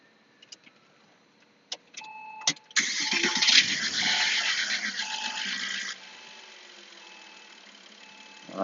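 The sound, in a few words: 2002 Porsche Boxster S 3.2L engine starting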